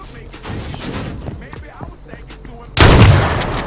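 Shotgun fire in a video game, a single loud close blast near the end after stretches of quieter game noise and talk.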